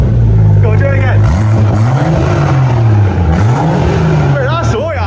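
A BMW M140i running with no exhaust fitted, straight from the catalytic converter, is blipped repeatedly close up: loud, raw revs rising and falling several times over a rough, throbbing idle.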